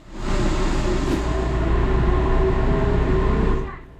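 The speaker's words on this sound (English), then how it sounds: "That door closing sound will also be familiar to regular UK train users." Interior of a Taiwanese limited express train: a steady low rumble and hum of the carriage fills the whole stretch, with a faint high chime-like tone near the start, fading at the end.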